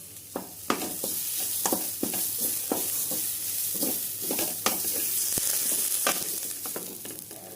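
Grated coconut sautéing in a pan, with repeated sharp scrapes and taps of a spatula against the pan over a steady frying sizzle, heard close and without any talk.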